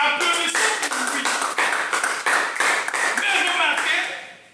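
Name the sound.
congregation applauding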